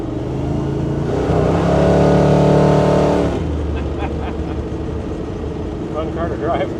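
A 1935 Ford coupe engine pulls loudly as it accelerates while driving, the rising drone peaking then cutting off to a lower rumble, with road noise continuing afterward.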